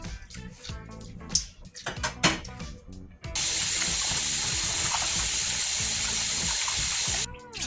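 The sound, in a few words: washing chicken with vinegar under running water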